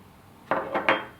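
Spoon knocking against a bowl while mixing honey with two teaspoons of sugar for a homemade lip scrub, three short scraping clinks close by, no talking.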